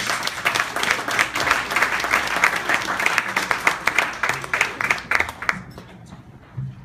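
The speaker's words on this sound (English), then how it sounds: "a big round of applause for Jim Bailey, the curator of this series" An audience applauds a jazz series curator at the Dazzle club, a dense, steady clapping that fades out near the end.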